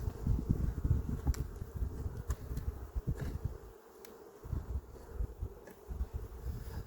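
A dense swarm of honey bees drones around an open beehive during supering, a close, steady low buzz that dips briefly midway before swelling again, with a few sharp clicks and taps of hive frames scattered through it and no talking.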